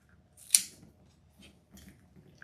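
Scissors trimming white deco mesh on a wreath, one sharp close snip followed by a few fainter cuts and rustles in a quiet room.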